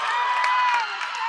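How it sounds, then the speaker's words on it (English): Roller derby crowd at a WFTDA game cheering and whooping steadily and loudly across the whole moment, a broad wash of many voices with a few shouts standing out near the end. "And the crowd goes wild"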